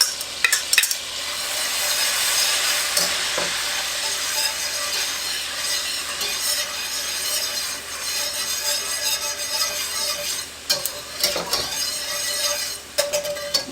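Minced garlic cooking in melted butter in a pan while spaghetti boils nearby: a steady, close sizzle with scraping stir strokes and a few sharper clicks, and no talking.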